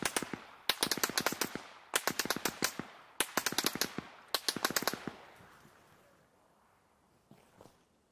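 Enemy gunfire in the Arma Reforger video game: four rapid bursts of automatic fire, each a quick volley of sharp shots, fading into a trailing echo and a faint late pop, with no talk.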